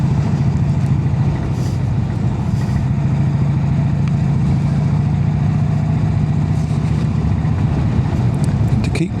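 A Brough Superior motorcycle rides along a narrow lane, its engine a steady, low, continuous drone with constant loudness and rushing wind noise, recorded up close from a microphone inside the rider's closed helmet.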